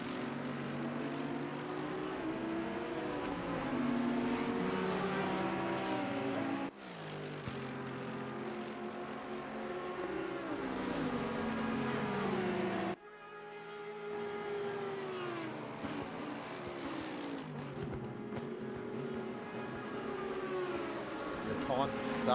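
Race car engines scream through long rising gear-by-gear pulls in Assetto Corsa Competizione at Bathurst. Sharp shift cuts break the howling revs, and a commentator talks over them.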